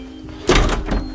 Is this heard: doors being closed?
yes